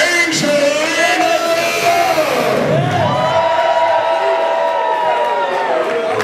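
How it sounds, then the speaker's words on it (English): A wrestling crowd in Brooklyn cheers and yells loudly for Angelina Love, a sustained roar of voices with a ring announcer's voice booming over it. "Listen to this crowd here in Brooklyn for Angelina"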